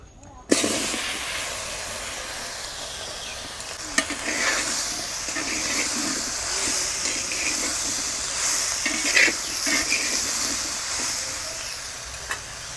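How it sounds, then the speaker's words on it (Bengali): Chopped bottle gourd tipped into hot oil in a kadai for a shukto, with a sudden burst of sizzling that settles into a steady, loud frying hiss and occasional stirring scrapes. "এবারে কড়ার মধ্যে দিয়ে দিব কুচানো লাউ"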